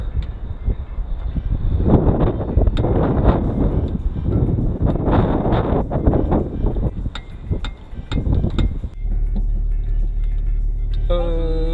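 Heavy wind buffets the microphone in loud, gusty roars, then eases into a steadier low rumble near the end.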